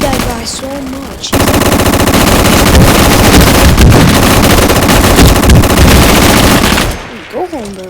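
Rapid automatic gunfire from a shooting video game, loud and continuous for several seconds with dense bursts, ending abruptly into a quieter stretch with faint game sounds.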